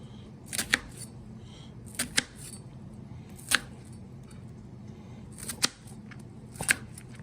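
Scissors make about five crisp, separate snips in a quiet kitchen while preparing Mexican lasagna, each cut sharp and close with short pauses between.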